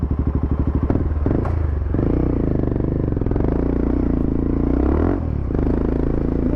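A motorcycle with ABS switched off, ridden on a moderate off-road trail during a sunset group ride, runs close and loud with a chugging idle that rises into sustained revving, plus rattling clatter from the rough ground.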